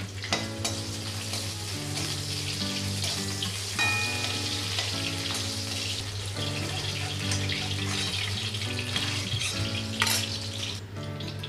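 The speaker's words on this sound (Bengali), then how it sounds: "ওই তেলের মধ্যে আমি সজনেগুলো ভেজে নেব।" Drumstick vegetables fry in hot oil with a continuous crackling sizzle that holds steady throughout, close and moderately loud, with no talking.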